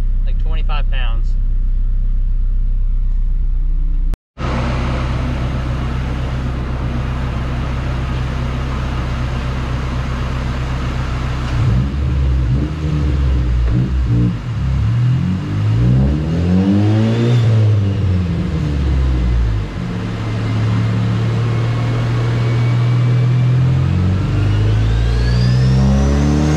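Honda Civic Type R, stock engine on a fuel swap with boost turned up, revving hard on a dyno: after a brief cut, a loud sustained engine drone climbs and sweeps through repeated rising and falling pulls, with voices audible in places.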